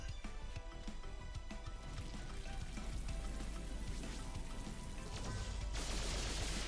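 Solar Rain skill effect from the video game Sea of Stars: a dense, continuous patter of many rapid rain-like impacts and crackles throughout, ending in a brighter burst of noisy hiss.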